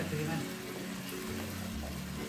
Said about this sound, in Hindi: जैसे ही दही भुनेगा हमारा मसाला रेडी हो जाएगा।